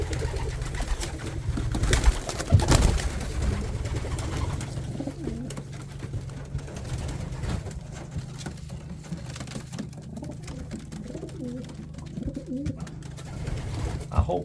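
Racing pigeons coo repeatedly inside a loft, soft throaty calls rising over a steady low hum of the loft, with a few faint rustles and wing shuffles nearby.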